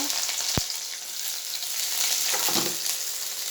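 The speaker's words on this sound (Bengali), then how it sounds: "তেলটা গরম হয়ে আসছে, এবারে পেঁয়াজ কুচি দিয়ে দেব।" Chopped onions sizzle in hot oil in a kadai, a steady close frying hiss with a couple of sharp knocks from the pan or spoon.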